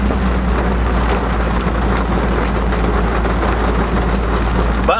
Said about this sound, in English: I'm getting hit by rain constantly